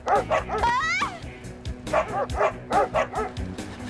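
Cartoon dogs in a French animated series bark and yip in quick bursts, with a whimpering whine in the middle, loud and close, while a voice calls out briefly.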